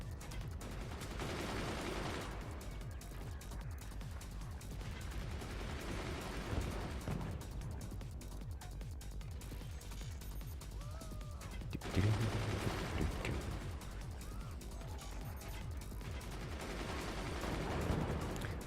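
Rapid volleys of gunner fire in the physics strategy game Forts, many guns rattling and thudding in dense overlapping bursts with booming impacts throughout, no talk.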